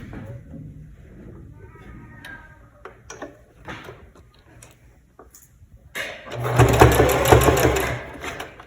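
A sewing machine runs a basting stitch on a fabric zippered pouch, starting with small clicks and handling noises, then giving a loud, close, steady whirring burst in the last few seconds.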